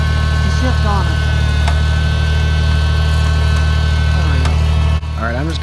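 A big tractor's engine idles steadily on a cold day, a loud continuous low rumble with a constant drone that dips briefly near the end, while faint higher chirps sound over it.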